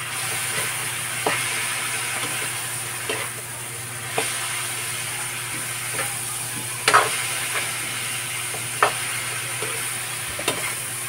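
Bamboo shoots stir-frying in a pan give a continuous close sizzle and hiss, with periodic scrapes and clacks of a spatula stirring every second or so, no speech.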